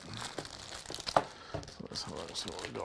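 Cellophane wrapping on a Roland D-05 synthesizer box crinkles and crackles in short bursts close by as it is handled, with someone talking quietly over it.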